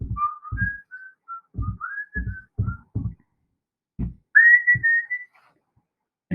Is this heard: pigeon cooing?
no